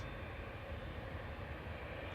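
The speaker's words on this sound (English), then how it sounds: "We've got a 787 of TUI taxiing out" A TUI Boeing 787 taxis out at Manchester Airport, its engines a steady, distant low rumble with a broad hiss that holds even throughout, with no talk over it.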